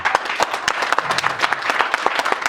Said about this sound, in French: battez des mains. Je veux entendre les mains battre.